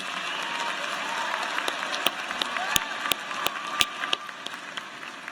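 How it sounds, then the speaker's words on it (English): Applause from a graduation audience at Auburn University's spring ceremony, a dense, steady clapping from a large crowd in a hall, with a few sharper individual claps standing out near the end. "Give them a round of applause and thank them for their valuable support."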